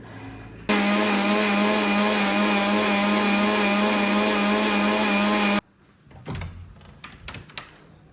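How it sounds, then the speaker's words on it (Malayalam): A kitchen mixer grinder whirs loudly and steadily for about five seconds as it grinds grated coconut for coconut milk, then cuts off abruptly, leaving faint kitchen clatter. "തേങ്ങാപ്പാൽ പിഴിയാൻ വേണ്ടി തേങ്ങ ഒക്കെ അരയ്ക്കാൻ പോവാണ്"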